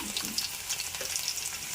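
Chana dal dropped into hot tempering oil that already holds garlic, a steady bright sizzle and crackle of frying with a soft stir, close and unbroken, no talking.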